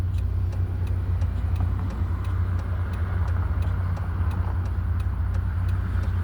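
A truck on a road making a wide turn, heard as a steady, loud low engine rumble with a regular ticking pulse, likely a turn signal, throughout, close by and without speech.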